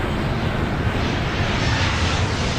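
A jet airliner takes off in the Airport Madness video game, a steady, full engine roar that swells slightly toward the end over a few seconds.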